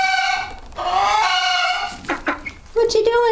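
A rooster crows loudly and close by, with harmonic, drawn-out calls broken up by clucks, and a person speaks softly in between.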